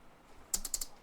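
A quick burst of four or five crisp keystrokes on a computer keyboard, close and fairly quiet, over a hushed room background.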